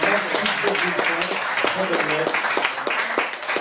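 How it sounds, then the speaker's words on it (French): Audience claps at a slam poetry night in Nice, rhythmic and uneven, for poet Keiji, with a voice talking over the applause. "Nous avons Keiji, qu'on applaudit bien fort, s'il vous plaît."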